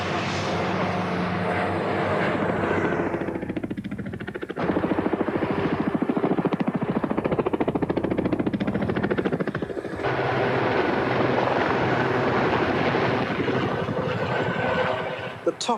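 An aerobatic display aircraft with an airframe built for nearly 400 km/h flies overhead, its engine a steady droning buzz that swells and fades as it manoeuvres, with wind rumble throughout.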